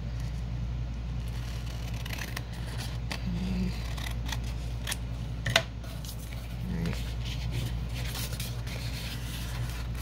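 Scissors snip repeatedly through vintage book-page scrap paper at close range, with soft rustling and rubbing of the paper between the cuts.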